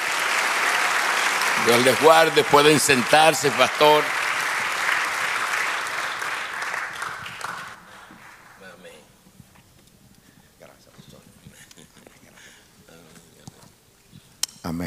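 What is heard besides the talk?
church congregation applause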